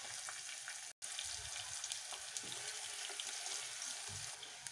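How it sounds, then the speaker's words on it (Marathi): Onion and garlic sizzle and fry steadily in hot oil in a pan for a Maharashtrian amti, a dense close crackle with brief stirring scrapes and one tiny gap. "कांदा लसूण लाल होईपर्यंत तळून घ्यायचा।"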